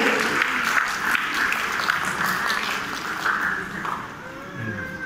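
Guests clap at a Christian wedding after the lamp is lit, steady moderate applause filling the room for about five seconds before easing off.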